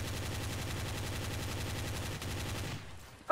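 Sustained automatic gunfire from a Counter-Strike: Source match rattles on in rapid, even bursts for about three seconds, then cuts off and leaves near silence.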